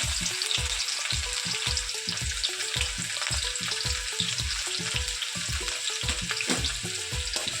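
Chopped ginger and onion fry in a pan, a dense sizzle broken by a steady, repeated scraping of the spatula as it stirs, close and continuous with no voices.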